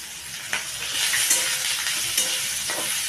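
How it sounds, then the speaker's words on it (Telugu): Fresh coconut pieces tossed into a hot pan of greens for a Tamil Nadu-style leaf dish, with a steady close sizzle and frying hiss under brief scraping stirs of a spoon against the pan; no voices. "ఇప్పుడు కొబ్బరి ముక్కలు వేసేస్తున్నాను."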